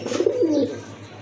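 A pigeon at a sale of local and foreign pigeons gives a single short, throaty coo close by, and then it goes quiet.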